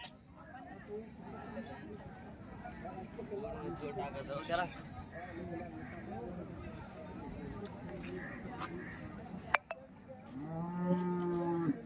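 Cattle moo with deep, drawn-out calls at the Hirapur livestock market under someone talking throughout, and a loud low bullock moo rings out near the end.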